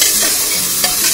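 A spoon scrapes and stirs lentils through a simmering pot, with a steady bubbling hiss throughout and no voices.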